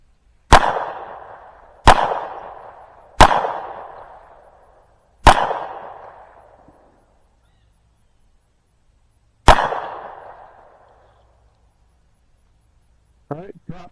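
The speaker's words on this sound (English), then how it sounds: "I'm shooting at 20 yards, so this is going to be a bit of a challenge to be shooting that small a target." Gunshots fired at a silhouette target from 20 yards on an outdoor range, five loud sharp cracks, each followed by a long decaying echo, spaced irregularly a second or more apart.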